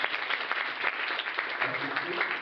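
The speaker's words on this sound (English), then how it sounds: "I would like to give a round of applause to Phil" A round of applause from a small audience at a talk, dense steady clapping at moderate level lasting the whole moment, with faint voices mixed in.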